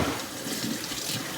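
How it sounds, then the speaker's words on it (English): Running tap water pours steadily into a sink while marimo moss balls are rinsed beneath it, a continuous close splashing rush with no talk. "You get all this sticky tap water rinsed off"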